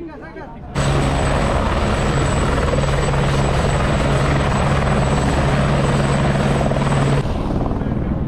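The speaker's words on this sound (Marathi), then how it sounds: "हेलिकॉप्टरचा आवाज पण खूप आहे" Helicopter flying over Kedarnath, a loud, continuous rotor roar with a steady whine that starts abruptly and holds near and strong for several seconds before easing slightly, with voices faintly underneath.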